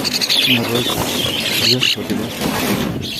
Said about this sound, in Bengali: পাখিদের খাবার দেওয়া হচ্ছে তো আজকে পাখি অনেক বেশি